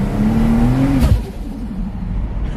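Turbocharged Ford Falcon engine revving loudly up close, a rising tone climbing for about a second before dropping off into a rough, lower idle rumble.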